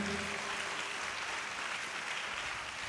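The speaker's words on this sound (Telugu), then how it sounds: "చప్పట్లు కొట్టి దేవుని మహిమపరచండి గట్టిగా" A church congregation claps together in praise during a Telugu sermon, a steady wash of applause at moderate distance that holds without a break.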